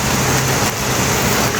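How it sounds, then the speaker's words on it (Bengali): Heavy rain pours outdoors in Italy, a loud, dense, continuous hiss of water drumming on surfaces close by, with no pauses. "ঝুম বৃষ্টি হচ্ছে, ঝুম বৃষ্টি"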